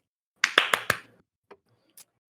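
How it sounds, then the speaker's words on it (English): A quick burst of four sharp hand claps in a row, followed by two fainter isolated taps, close and dry with no talking over them. "Ooh, claps too."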